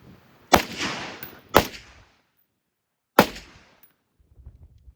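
Three sharp, close gunshots at an outdoor shooting range, the first two about a second apart and the third after a longer pause, each followed by a short ringing decay, then quiet.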